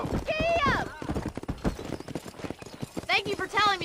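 Horse hooves clatter in quick galloping beats in the video game Red Dead Redemption, with a sharp whinny and someone shouting over the close, loud hoofbeats.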